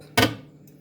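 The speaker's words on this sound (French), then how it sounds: "si on veut faire un pain, on va vider le contenu dans un saladier" A jar of sourdough starter is emptied into a salad bowl, making one sharp, close thud that fades quickly into near quiet.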